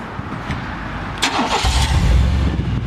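A 1998 Chevy pickup truck engine cranks and catches, then settles into a loud, rumbling idle with a throaty exhaust close by.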